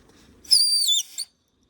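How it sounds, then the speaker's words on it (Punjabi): A man whistles once, a bright, high, warbling tone lasting under a second that ends in a brief final chirp, close by against near silence. "ਚਾਚਾ ਪਾਣੀ ਸੀਟੀਆਂ ਮਾਰੀ ਜਾਂਦਾ ਬਸ ਕਰ ਯਾ ਚਾਚਾ"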